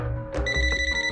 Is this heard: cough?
no